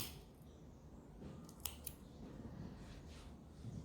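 Scissors snipping black yarn on an amigurumi doll: two quick, faint snips close together over a soft, quiet room background.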